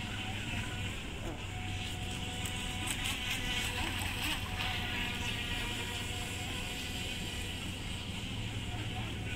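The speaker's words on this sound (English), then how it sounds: "Speedboat siya." A speedboat passing out on the water: a steady broadband engine drone at a distance, with faint voices and insect-like whine mixed into the outdoor background.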